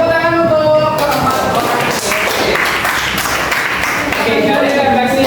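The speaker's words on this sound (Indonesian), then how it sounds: "semuanya silakan dulu kembali tepuk tangan" An audience claps their hands in a steady, dense burst of applause lasting several seconds, fairly close and loud, with a voice faintly mixed in.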